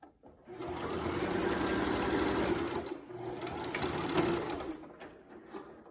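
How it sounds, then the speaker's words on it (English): A sewing machine runs steadily as it stitches a skirt seam with a 1/4 inch seam allowance and a back stitch, a close mechanical whir that stops briefly near the end. "Remember to start sewing with back stitch."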